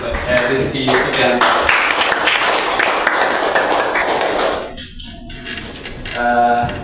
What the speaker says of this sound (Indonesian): Kasih tepuk tangan untuk Rizky